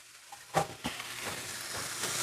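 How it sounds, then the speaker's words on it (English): Country sausage browns in a skillet with a steady, close sizzle and a few louder stirring scrapes near the start, with no talking. "And we're just going to brown this up."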